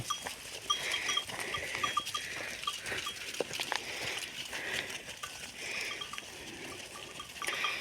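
A flock of sheep with rams at a distance, with scattered bleats, a jingling bell and soft shuffling over a quiet outdoor background.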